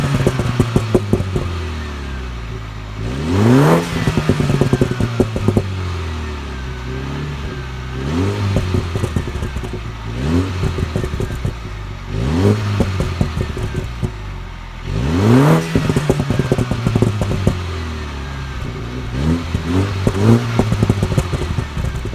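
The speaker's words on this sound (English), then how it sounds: "what the exhaust sounds like in sport mode" Mini Cooper S F56 exhaust in sport mode, revved repeatedly while parked outside, with sharp rising bursts that fall back to idle, crackles and pops on the overrun, close and loud, no talking.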